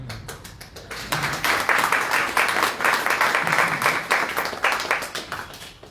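A crowd at a religious gathering claps, starting with a few scattered hands that build into steady, dense applause before it eases off a little. No voices are heard.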